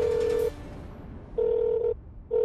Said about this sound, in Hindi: देख, फिर से सिर्फ रिंग आ रही है।